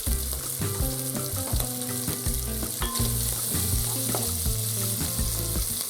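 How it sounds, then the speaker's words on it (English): Bacon fries in a pan over high heat for Polish sour rye soup, a loud, continuous crackling sizzle with dense popping and a steady tonal hum underneath, heard up close with no talking. "Stove is on a high heat. Of course, I will fry bacon."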